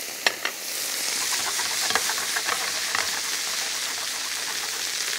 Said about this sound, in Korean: 그냥 아무래도 약간의 물을 넣고 볶을 거예요